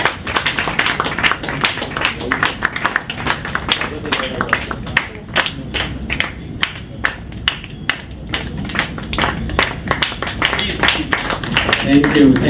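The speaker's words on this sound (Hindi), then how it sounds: "जब तक वो सीट पे पहुंचे तालियां बजती रहनी चाहिए।" Lions Club Noida audience applauding continuously to welcome the new club president, Dr. Leena Chauhan, a dense steady clatter of many hands with sharp individual claps, loud and sustained throughout.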